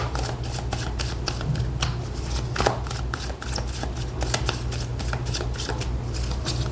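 Tarot cards being shuffled by hand: a steady run of crisp riffling flicks and slaps lasting several seconds, close and fairly loud over a low constant hum, with no talking.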